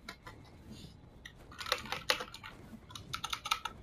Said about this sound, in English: Did you guys hear Clicky? That's my new keyboard I got for Christmas